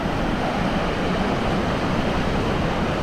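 A rain-flooded stream rushes over rocks near a campground, a loud, steady broadband roar of churning water that fills the whole moment without pause or voices.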